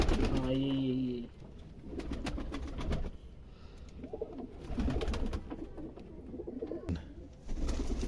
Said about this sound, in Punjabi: ਇਹ ਕਬੂਤਰ ਜਨਾਬ ਸਾਡੇ ਕੋਲ ਜਿਹੜੇ ਆਏ ਸਨ ਨਾ, ਇਹ ਕਬੂਤਰ ਉਸਤਾਦ ਸ਼ਾਹਿਦ ਜ਼ੈਦੀ ਸਾਹਿਬ ਕੋਲੋਂ